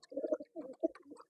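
Soft, low pigeon coos in a few short bursts, close by, with a sharp knock at the very end.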